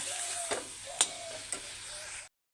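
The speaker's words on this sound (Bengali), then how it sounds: "এই যে মাংসটা দিয়ে এখন একটু ভেজে ভেজে নেব।" Chicken meat fries in a pan with a soft, steady sizzle and a few light clicks of stirring, close and fairly quiet with no talk.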